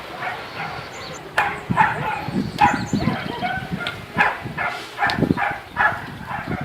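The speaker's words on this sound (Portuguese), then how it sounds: "eu falei golpe, os cachorros latiram" Several dogs bark repeatedly, some near and some farther off, in uneven bursts over low background noise and faint voices.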